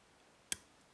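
A single sharp, faint click of a pin being picked inside a TESA TK5 lock, one crisp tick in quiet surroundings followed by a softer tap.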